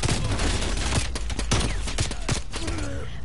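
Rapid gunfire from Call of Duty Cold War gameplay, dense bursts of automatic shots crackling continuously at close range with sharp individual reports.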